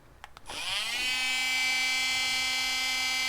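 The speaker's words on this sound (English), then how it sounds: "take my Dremel tool, and I'm just going to cut." A Dremel rotary tool at a bench vise, ready to cut. A couple of faint clicks come first, then the motor spins up into a loud, steady high-pitched whine that holds to the end.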